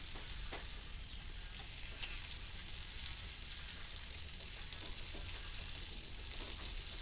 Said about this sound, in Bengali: আর একটু নেড়ে মানে উল্টিয়ে দেবো বেগুনগুলো